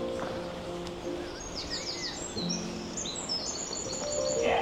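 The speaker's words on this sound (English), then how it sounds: "Just loads of little great tits, I think, and long-tailed tits." Small woodland birds, great tits and long-tailed tits, call throughout with thin, high chirps and twittering bursts over a steady outdoor background, moderately near and continuous.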